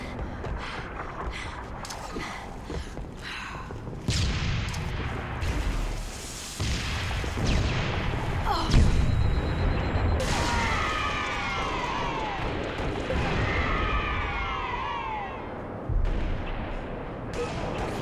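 Rocket blasts and gunfire in Halo: The Master Chief Collection multiplayer, with repeated booming explosions and bursts of shots scattered through the clip, some loud and close, among other in-game effects while players talk.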